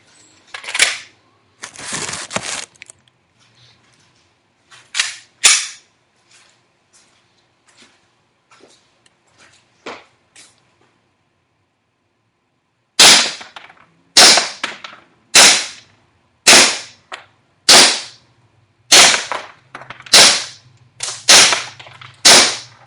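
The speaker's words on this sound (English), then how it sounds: "I'll be shooting from 25 feet, and I'm using perfect KWA BBs, .25s, and propane." KWA ATP airsoft pistol firing .25 BBs on propane from 25 feet: a few scattered pops and handling clicks, then ten loud, sharp shots in a steady, evenly spaced string, close by.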